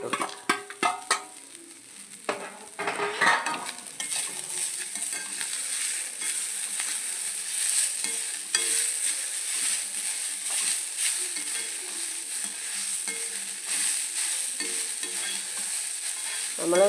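Salt-boiled beetroot tossed and stirred in coconut oil: a few sharp scraping knocks at the start, then a steady, moderate sizzle that continues under occasional light stirring.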